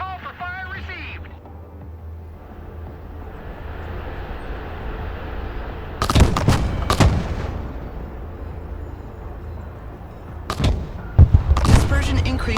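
Artillery barrage called in within the modern warfare video game Broken Arrow, with a low rumbling battlefield bed broken by several loud, sharp booming impacts in two clusters, after a brief radio-style voice at the start.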